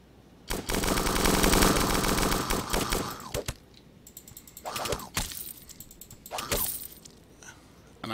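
Enemy gunfire in the video game Starbound: a sustained, dense burst of rapid mechanical shots for about two and a half seconds, then a few shorter, quieter bursts with gaps between them.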